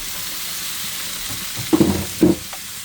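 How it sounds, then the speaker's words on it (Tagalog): Onion and tomato sautéing together in a pan, a steady sizzle with a few louder stirring bursts near the end, close and with no talk. "Pagsabay-sabayin na natin at gisa."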